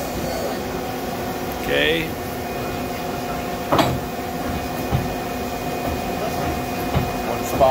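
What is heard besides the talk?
Mazak SQT 18MS CNC turning center turret moving and indexing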